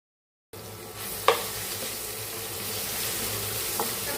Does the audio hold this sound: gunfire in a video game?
no